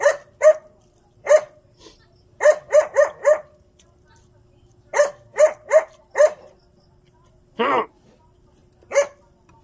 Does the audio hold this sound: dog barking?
yes